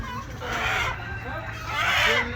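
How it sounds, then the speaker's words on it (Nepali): Roosters at a local market give two short clucking, crowing-like calls close by, over a low background murmur. "यो दुईटा भाले लाने आज"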